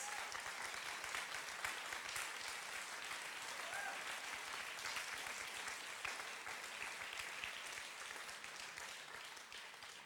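A conference audience at a plenary meeting claps steadily in a dense, sustained round of applause that carries on for the full stretch without talk.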